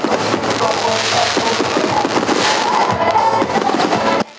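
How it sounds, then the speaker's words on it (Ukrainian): Fireworks at the close of a Hutsul brynza festival in Rakhiv, a dense stream of crackling bursts and pops with distant booms beneath, steady and fairly loud before cutting off. "А фінальнім незабутнім акордом дійства став феєрверк."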